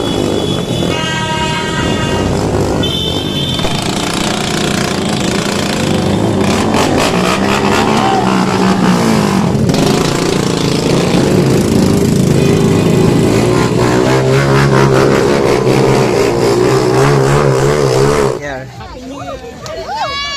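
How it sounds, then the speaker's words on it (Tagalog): Loud, continuous street traffic noise, with engines like motorcycles and cars passing close by on a busy street. Talk and crowd chatter run underneath, then the noise drops off sharply near the end. "iparinig ko sa inyo yung kung gaano kaingay yung mga sasakyan"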